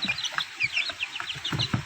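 Three-week-old chicks being fed fermented bran, a flock peeping and clucking in quick overlapping bursts, fairly soft and close, with no talk.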